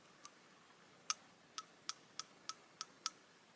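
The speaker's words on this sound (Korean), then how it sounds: "똑딱딱 유리 소리 너무 좋죠?" Fingernails tap a glass beauty ampoule bottle, giving about eight crisp, bright clicks at an irregular, slowing-then-quickening pace, close and clear over a quiet background.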